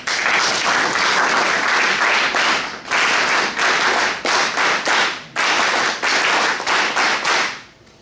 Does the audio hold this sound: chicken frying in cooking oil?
no